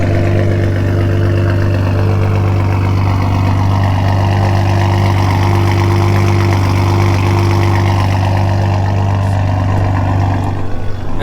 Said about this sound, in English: he's about to take out the Supra right now